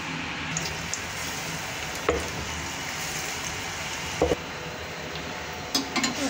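Pakoras deep-frying in oil over a low flame give a steady, moderate sizzle and bubbling throughout, broken by a few brief clinks or stirring knocks.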